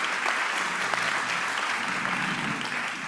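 An audience at a Rotary club meeting claps for guests in a steady, even round of applause that fills the room for a few seconds, with no speech over it.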